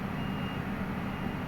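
Reversing beeps from a truck being backed up to couple a trailer at a depot in the Netherlands, a steady repeating tone over a low diesel engine rumble, with no voices.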